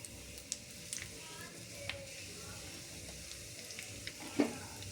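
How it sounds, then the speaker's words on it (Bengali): Whole cumin seeds tempering in hot oil for a fish-roe kalia, a quiet, soft sizzle with a few faint crackles and the light scrape of stirring. "এবার ফোড়ন দিয়ে দিচ্ছি আমি এখানে গোটা জিরে,"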